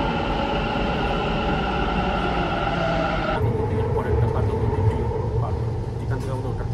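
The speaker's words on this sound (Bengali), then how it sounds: "মেট্রো ঢুকছে" A Bangalore Purple Line metro train pulls into a station with a steady rumble and rail noise. The sound shifts and softens partway through as it slows, with voices in the background.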